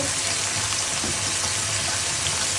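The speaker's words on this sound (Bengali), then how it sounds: "এর মধ্যে আর একটু মশলা দিয়ে দিচ্ছি" Beef curry fries in a pan as more spices are added, making a steady, dense sizzling hiss that stays loud and even throughout, with no voices.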